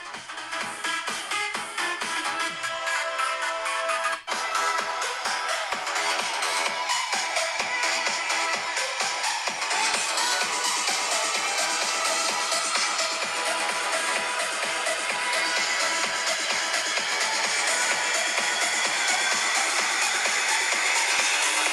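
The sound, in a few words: music sample played through iPhone 13 Pro stereo speakers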